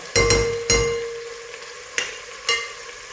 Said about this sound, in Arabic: انا راهو البصل تاعي والدجاج ولي زيتيس مع المعادن وصام يتقلاو حتى يتقلاو مليح مليح